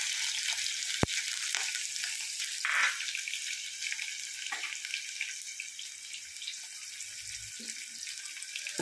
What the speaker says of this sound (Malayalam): കടുക് വറുത്ത ശേഷം ഉള്ളി ഇട്ട് കൊടുക്കുക.